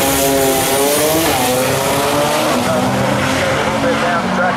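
Drag race cars launch hard off the starting line, engines roaring loud and close with pitch climbing as they pull away, while a commentator talks over the din.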